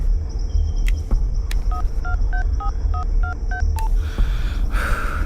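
A rapid series of short electronic keypad beeps, about ten dual-tone presses in a quick even rhythm, over a low rumbling background.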